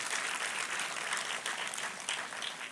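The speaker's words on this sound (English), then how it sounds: "Can we clap for these Silver Jubilee celebrations?" Guests at a Silver Jubilee fundraising dinner for a girls' education charity break into dense, continuous applause, bright and even from start to finish, with no voices over it.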